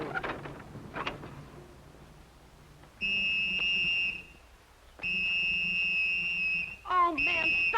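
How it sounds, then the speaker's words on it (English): A shrill whistle is blown in two long, sustained blasts and then a shorter one. Background noise and movement come before the blasts. "Oh, man, stop blowing that whistle."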